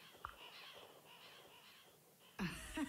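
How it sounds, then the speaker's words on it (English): A flock of crows cawing in Fire Emblem Awakening, with one sharp caw early on, a steady fluttering din of wings and calls, and a louder burst of squawks near the end. "I can't see anything through all these darn birds!"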